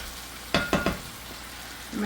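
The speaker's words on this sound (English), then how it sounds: "Stir that in there." Leftover rice sizzling in a hot frying pan as it is stirred, a steady fry with three sharp scraping strokes in quick succession, close and fairly loud, then a softer stir near the end.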